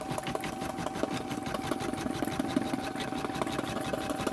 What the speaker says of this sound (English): so now it is stitching out the upper portion.